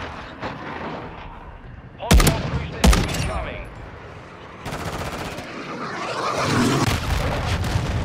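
Enemy gunfire in a shooter video game match on a new map: two sharp, loud single shots, then a long stretch of sustained rapid fire with a voice talking over the game.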